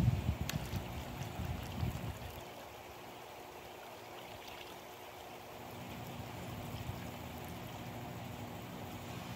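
Water pours and trickles over incinerated IC chip ash in a pan, at first with a louder rinse and splashes, then settling into a soft, steady wash of running water.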